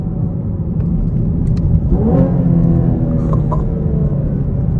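A 2024 Chevy Camaro 1LT accelerates hard in a first gear pull, its engine rumbling loudly and rising in pitch as it revs up from inside the cabin.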